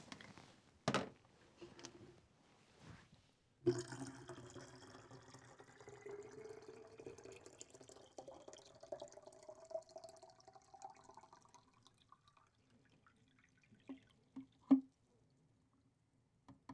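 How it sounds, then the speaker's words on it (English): Photographic film fixer pours back into its storage container, a steady liquid stream running for several seconds with a rising fill tone, followed by a few scattered drips and clinks near the end. "we're going to pour the fix back into its container"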